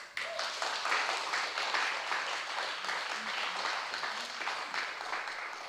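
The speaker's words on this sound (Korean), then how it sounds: "이 자리에서 박수 한번 주시죠." Congregation applause during a Sunday church service, a sustained, fairly even wash of clapping from a large group, moderately distant and steady throughout.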